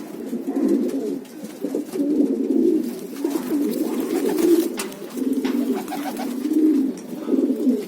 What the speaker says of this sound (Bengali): এটা বাংলাদেশের পায়রা।